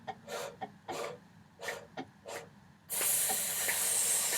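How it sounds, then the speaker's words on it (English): Several short hissing breaths through the teeth, then one long sustained hiss that carries on steadily to the end, as a trombone breathing exercise. "we're going to sip in air for 4 counts and sizzle it out"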